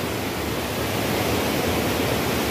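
Water in a stream on a cycle path in Swiss Normandy near Caen, a steady, dense rushing and babbling that fills the whole clip without pause and with no voices over it.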